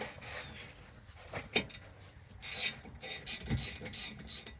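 A 14mm wrench turning bolts on Acura TSX brakes, close soft ratcheting and scraping clicks in uneven bursts with faint metallic knocks, quiet and without talking.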